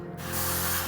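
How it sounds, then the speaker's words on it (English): An airbrush spraying thin coats of paint onto Warhammer 40k miniatures starts up after a brief moment, then gives a steady, close, breathy hiss over faint background music. "it looks like the airbrush is affecting the sound with the music a little bit."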